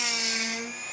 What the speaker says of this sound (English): we're going to drill out the valley